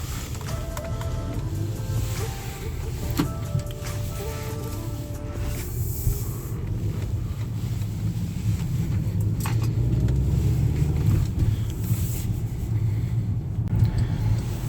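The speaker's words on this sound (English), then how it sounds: "Now this car's got quite a bit of pep to it, so making 200 horsepower, it goes down the road pretty good." A VW Eos convertible with a 200-horsepower engine drives down the road, giving a steady low engine hum and road rumble that build slightly as it picks up speed, heard from inside the car.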